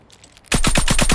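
A loud burst of rapid automatic gunfire in the mobile game Call of Duty Mobile, about seven evenly spaced shots starting abruptly after a short quiet moment.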